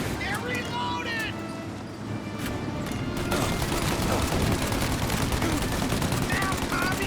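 Gunfire in the video game Mafia: Definitive Edition, a dense stretch of overlapping shots and rapid bursts that grows busier partway through, heard close and loud with shouted voices over it.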